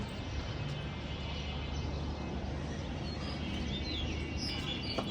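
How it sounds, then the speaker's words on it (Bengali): Birds chirp on a rooftop garden at sunset, a few faint, scattered tweets over a quiet, steady outdoor hum, with no talking. "পাখির আওয়াজ হ্যাঁ"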